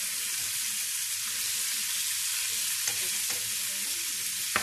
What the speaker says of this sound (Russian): Лучок еще обжаривается.